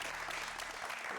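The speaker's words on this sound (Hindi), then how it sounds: "बिल्कुल अली सिकंदर के लिए तालियां।" A studio audience applauds steadily for actor Ali Sikander, a dense, even wash of clapping heard fairly quietly and alone throughout.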